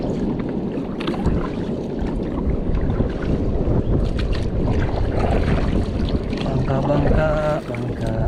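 A small bangka boat out on open water while fishing, with a steady broadband wash of engine and water noise throughout, wind buffeting the microphone, and faint voices in the background.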